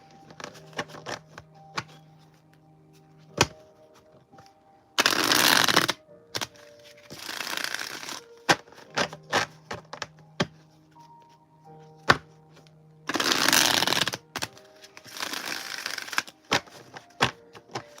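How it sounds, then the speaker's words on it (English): A deck of cards is shuffled by hand, with repeated loud riffles of about a second each separated by quieter stretches of tapping, squaring and soft clicks. No one speaks. "That's why I'm shuffling."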